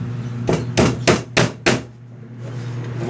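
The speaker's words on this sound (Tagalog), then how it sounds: "Siyempre, papako na natin to." Five rapid, loud hammer blows drive nails into a wooden nest box, sharp close thwacks in quick succession over a low background hum, then a quiet pause with no speech.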